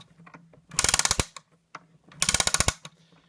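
The clockwork spring motor of a Gakken gramophone kit runs in two loud, close bursts of rapid ratcheting clicks, each lasting about half a second, separated by quieter mechanical ticking.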